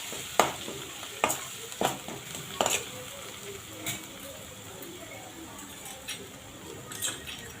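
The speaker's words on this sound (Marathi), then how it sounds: "थोडासा हिंग आणि हळद. छान फिरवून घ्यायचे." Asafoetida and turmeric sizzle softly in hot oil in a pan for potato chutney while a spoon stirs and scrapes, giving several sharp clinks and scrapes over a steady low fry, with no talking.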